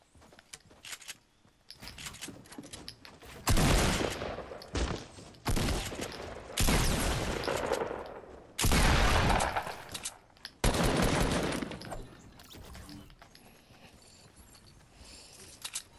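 Video game gunfire rattles in several loud, sustained automatic bursts, each lasting about a second, separated by brief gaps, with quieter scattered shots before and after.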